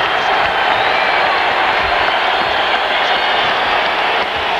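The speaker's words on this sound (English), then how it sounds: "He doesn't even know the crowd's yelling for him." Basketball arena crowd at a 1987 Warriors vs Lakers game yelling and cheering, a dense, loud, steady roar of many voices filling the whole stretch.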